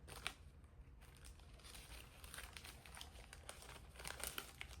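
Tissue paper crinkles and rustles close up while an Hermès exotic Calvi card holder is unboxed, soft, irregular crackling bursts continuing throughout at low volume with no talking.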